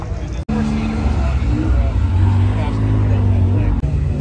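Sports cars pull in at an end-of-season cars and coffee meet, engines idling and rumbling low and steady beneath nearby chatter and crowd babble.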